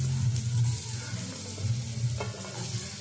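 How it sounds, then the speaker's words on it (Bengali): Potatoes frying in mustard oil with salt and turmeric give a steady, close sizzle with a low hum beneath it and a few soft stirring scrapes, no voices. "প্রথমে আমি আলুটা ভেজে নেব।"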